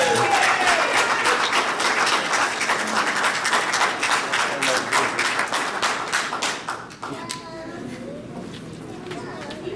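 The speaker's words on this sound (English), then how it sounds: "Round of applause for Mr." Audience applause for the 2022 front wheel drive racing champion, a loud dense burst of many hands clapping that continues for several seconds before tapering off, with a voice speaking over it.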